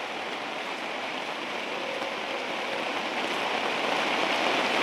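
Heavy night rain falls steadily on a hillside shepherds' camp in a dense, even patter that swells slightly toward the end, with no voices present.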